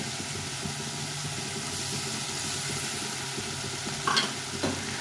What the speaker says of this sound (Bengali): দিয়ে এটা সবটা কষিয়ে দেবো ভালো করে যতক্ষণ তেল না ছাড়ছে ততক্ষণ কষিয়ে নিতে হবে